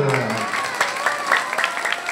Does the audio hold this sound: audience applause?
yes